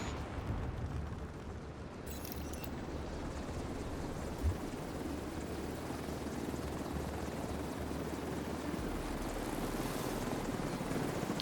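A helicopter in a video game, a steady low rotor drone that holds loud and constant throughout with a brief burst near the start and no talk.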